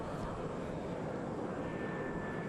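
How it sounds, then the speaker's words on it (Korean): An airplane engine roars at Tokyo Haneda Airport, a steady, loud, continuous drone. "윤석열 대통령 부부가 조금 전에 도쿄 하네다 공항을 출발해서 이제 귀국 비행기에 올랐습니다"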